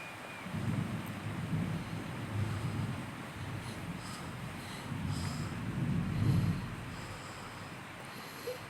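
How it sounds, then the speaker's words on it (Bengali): Thunder from a storm with rain outside, low rolling rumbles that swell twice over a steady windy wash, heard muffled through a closed window with no talk. "এত বাজ পড়ছে ওই জন্য আওয়াজও জোর হচ্ছে"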